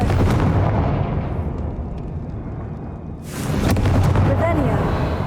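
In Hogwarts Legacy, a Confringo blasting spell explodes with loud, rumbling booms: one burst at the start, a quieter rumbling lull, then a second powerful blast that swells and rolls on.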